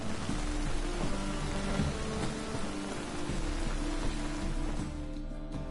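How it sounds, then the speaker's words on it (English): Steady heavy rain pours down in The Witcher 3, a dense hiss of drops with low rumbling beneath, continuous and fairly close. "Rains, it pours."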